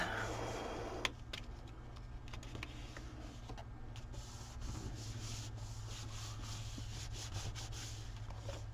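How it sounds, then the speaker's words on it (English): Glued paper on a mini envelope album is rubbed down firmly by hand: a close, continuous scratchy rubbing runs throughout over a low background hum, with no talk. "And give it a good rub."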